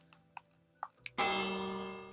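After a few soft ticking clicks, a Minecraft village bell rings once with a bright, loud metallic clang that slowly rings out.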